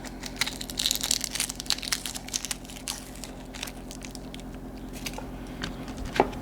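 Close, dry crackling and crinkling of papery skin being peeled from a shallot by hand, in small bursts with brief pauses between them.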